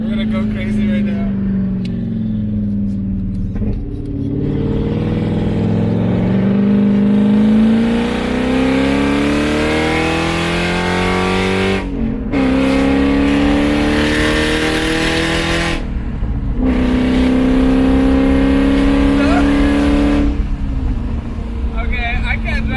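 A heavily modified car's exhaust revs hard and very loud up close, rising and falling through long sweeps with brief cutoffs, with someone talking over it.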